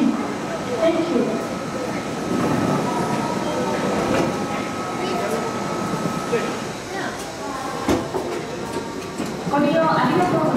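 A JR East E259 series Narita Express limited express pulls out of Tokyo Station, a steady low rumble of rolling stock and motors with faint wheel clicks, under station ambience and a passing voice.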